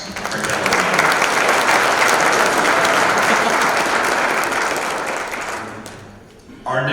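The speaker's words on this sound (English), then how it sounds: "Once again, a round of applause for Kevin." An audience applauds a Hall of Fame honoree at a school district athletic Hall of Fame ceremony, with loud, dense clapping that swells, holds, then dies down before a voice briefly resumes at the end.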